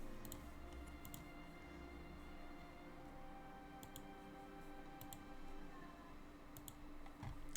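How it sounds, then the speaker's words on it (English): Quiet keys tapped on a computer keyboard, sparse clicks arriving in small clusters over a faint steady room hum, with no voices. "I was typing the stuff for Cat."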